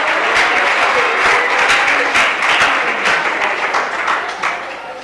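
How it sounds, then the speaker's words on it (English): Audience applause at a provincial capital markets debate between college teams, dense sustained clapping from a large crowd filling the whole stretch, easing off slightly toward the end. "A hand of applause for him, please."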